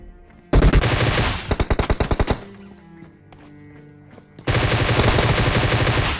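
Bursts of automatic Groza rifle fire in a battle royale video game, loud and close: a long sustained volley, a quick string of separate shots, a short lull, then another long continuous burst.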